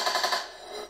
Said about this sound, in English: There's been firefights on the battlefield